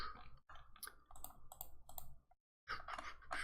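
Quick runs of small plastic clicks from a computer mouse tapping through objects in a game level editor, close and fairly quiet, arriving in short bursts with a brief silent gap before resuming.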